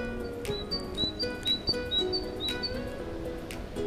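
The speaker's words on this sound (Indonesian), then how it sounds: "Sebab kuasa ni ada bunyi burung" Birds chirping in the Car Parking Multiplayer mobile game near a mountain area, short high tweets repeating through a steady hum of game ambience, moderately faint and with no talking.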